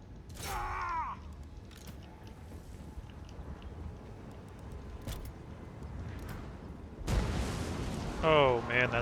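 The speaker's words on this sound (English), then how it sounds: "You get carried away with the cannons here." Cannon fire from a Total War Warhammer 2 battle under the SFO Grimhammer II mod as Luthor Harkon: a sharp blast near the start and another late, set in steady rumbling battle noise with brief in-game voices.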